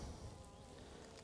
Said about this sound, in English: This frame is full of bees.